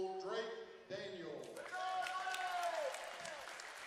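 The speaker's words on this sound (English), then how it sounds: "Let's give a big round of applause to our 2024 Christmas in the Ville Holiday Tournament all-tournament team." Fans in a gym at a middle school boys' basketball holiday tournament clap and cheer for the all-tournament team, a fairly soft burst of applause mixed with scattered shouts.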